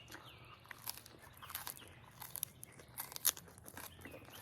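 Someone chews crunchy raw celery up close, with crisp irregular crunches and snaps between quieter mouth sounds, no talking.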